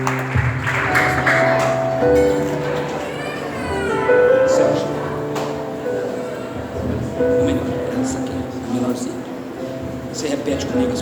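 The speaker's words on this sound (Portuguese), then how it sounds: "Dê uma salva de palmas para os noivos." Wedding guests clap for the bride and groom at a ceremony, with applause rising briefly at the start while music plays prominently and a voice talks over it.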